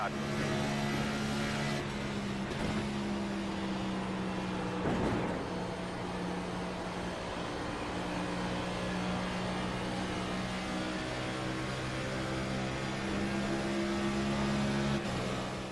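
Race car engine in the iRacing sim at Pocono, a steady loud drone with harmonic bands stepping in pitch as the car shifts gears and revs, continuous throughout with no voices.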